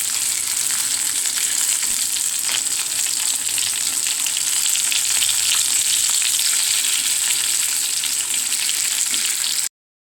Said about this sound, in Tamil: இப்போ மீனை வந்து நம்ம திருப்பி போட்டுக்கலாம்